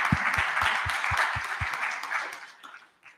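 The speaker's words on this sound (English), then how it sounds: "I want to give you guys a round of applause" A crowd at a hackathon applauds in a steady wash of clapping with a few louder nearby claps, fading out toward the end.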